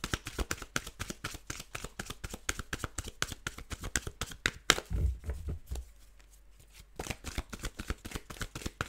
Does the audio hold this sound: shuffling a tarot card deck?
yes